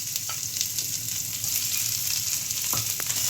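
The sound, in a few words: onion frying in ghee with cumin and mustard seeds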